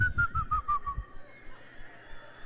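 Several people whistle together in imitation of eagle calls at a conference: a string of about six short, rising whistled notes in the first second, loud and close, then fading into quiet room noise.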